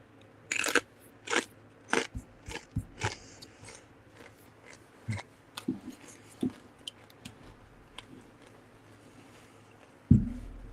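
Someone crunches loudly on chips close to the mic during a live stream, with a series of sharp, irregular bites and crackly chewing in between, and no talking.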